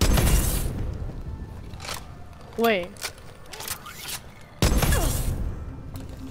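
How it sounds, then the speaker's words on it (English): A gunshot and then an explosion boom in Call of Duty Advanced Warfare zombies mode, two loud abrupt blasts several seconds apart, with a voice briefly talking between them. "that second boom is the explosion. The first one is me shooting it."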